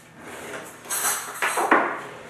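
A big tablespoon stirs homemade dog treat dough in a bowl, giving soft scraping strokes followed by a few sharper knocks and clunks against the bowl. The sounds are close and fairly quiet.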